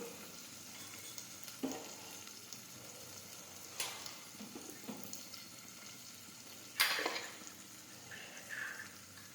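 Turmeric and cumin fry in hot oil for cluster bean curry, giving a low, steady sizzle with a few brief clattering stirs and a sharper splash near the end, with no talking.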